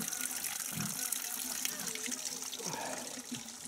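Spring water trickles and gurgles as it spills out of its channel near a pipe intake in a canyon, a steady low wash running throughout.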